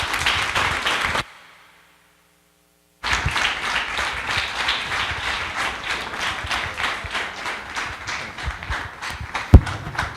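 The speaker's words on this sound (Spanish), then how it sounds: "Brindemos nuevamente un fuerte aplauso" Audience applause after a high school lecture at Preparatoria 21: dense clapping, briefly cut off by a short silence, then resuming steadily and sustained to the end with a single sharper thump near the close. No voices.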